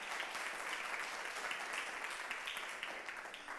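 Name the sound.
applause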